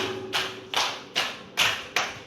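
In a classroom, pupils clap together as the count goes up, five sharp, evenly spaced group claps sounding alone at a steady rhythm.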